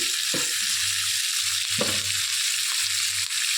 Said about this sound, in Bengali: নুন হলুদ দিয়ে ভাজা ভাজা করে নিয়ে ফিরে আসছি।